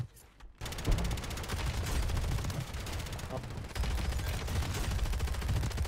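Rapid submachine gun fire in a Fortnite match at Fortunes Keep, sustained bursts from about one second on that barely pause, loud and close with game sounds underneath.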